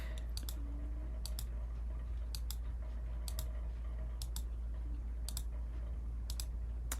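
A computer mouse clicks while a simple click game is tested, with sharp, close double clicks repeating in small pairs about once a second over a steady low hum.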